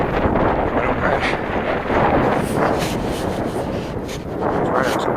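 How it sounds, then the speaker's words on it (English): Strong gusty wind buffets the microphone at an RC plane maiden flight with a FlyZone Cessna Corvalis 350 of 1450 mm span, a loud, continuous roaring rumble that swells and eases in waves. "Too windy."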